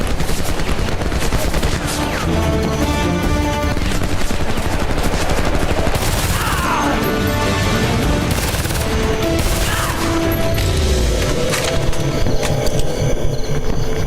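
Rapid machine gun bursts and scattered gunshots crackle through a loud, dense firefight in the video game Homefront, with booms and impacts layered over continuous battle noise.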